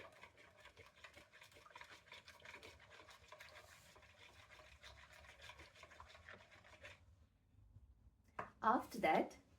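Orange juice stirred with water and sugar in a glass, a steady scraping, clinking stir lasting several seconds at moderate level, then a brief louder rattle near the end.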